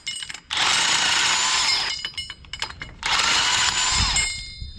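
An impact wrench removes lug nuts during a tire and wheel stud replacement. It gives two loud, sustained bursts of rapid hammering, each about one and a half seconds long, separated by short ratchety rattles, close by with no talk.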